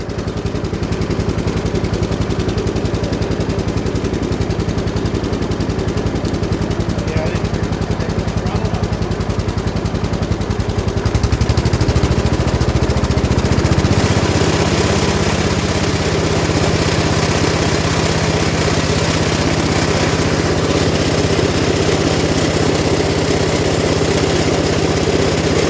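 The engine of a 1967 Gravely 430 walk-behind tractor runs steadily at throttle for the whole stretch, a loud, close, rough mechanical drone whose pitch steps up partway through, with no voices.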